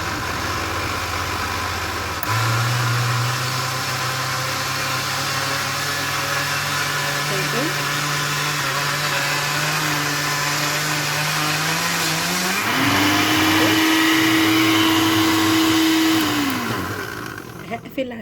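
A blender grinds tahini loudly and continuously, its motor pitch climbing partway through before it winds down at the end.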